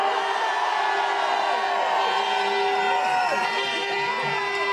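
Manchester anti-lockdown protest crowd cheering loudly and steadily, a sustained wash of many voices with scattered whoops and shouts.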